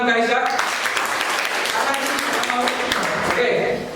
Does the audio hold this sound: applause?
yes